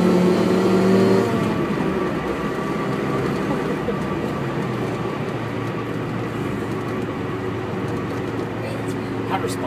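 A Mazda RX-7 with a rotary engine, heard from inside as it winds up, a loud sustained drone that climbs and then holds steady beneath talking.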